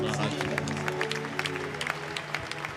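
A church congregation at a French-language service applauds in a steady, dense wash of clapping, with voices and crowd noise mixed through it.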